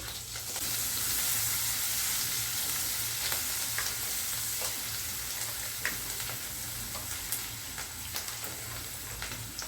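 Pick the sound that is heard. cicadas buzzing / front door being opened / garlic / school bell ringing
garlic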